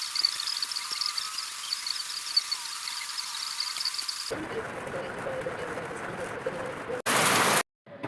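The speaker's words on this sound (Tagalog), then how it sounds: "Bumagsak na naman ang ulan guys na napakalakas." Heavy evening rain falls with a dense, steady hiss, joined early on by a high insect chirr. Partway through the sound shifts to a closer, rougher downpour, and a brief loud burst of noise comes near the end.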